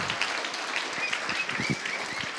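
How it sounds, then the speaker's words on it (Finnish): At the Finnish Game Awards 2014, the audience applauds author Juho Kuorikoski with a steady, moderately loud wash of clapping and a few whistles that carries on throughout. "Annetaanpa Juhalle aplodit."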